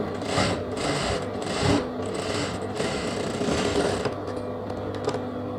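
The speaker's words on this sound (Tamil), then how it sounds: "இதை அப்படியே திருப்பி இந்த பக்கம் ஊசியோட ஒரு தையல் போட்டுறேன்" A sewing machine stitches fabric for a semi-patiala pant in a steady, close whirring run with slight surges in speed and a brief pause near the end.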